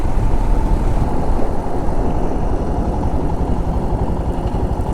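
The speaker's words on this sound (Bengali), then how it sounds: "আমি কনস্ট্যান্ট 90 to 95-এ ক্রুজ করছি বাইক" Steady, loud motorbike engine drone with heavy wind rush, a continuous even roar of a bike cruising at 90 to 95 on a highway.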